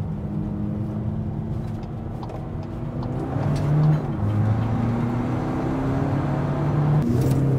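A turbo-upgraded VW Caddy Mk5 van pulls out of a roundabout in second gear, its engine droning steadily and rising in pitch as it accelerates, heard from inside the cabin.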